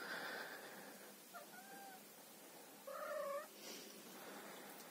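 Domestic cat meowing during a stay in a cold bomb shelter, with a few short tonal calls around the middle and a louder, longer meow near the end, heard alone over a low background hiss.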